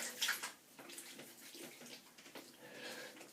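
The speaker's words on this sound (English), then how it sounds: "I'm just going to rinse my face again." Water splashing at a bathroom sink as a face is rinsed after a shave, soft close splashes and trickling that come and go over a few seconds.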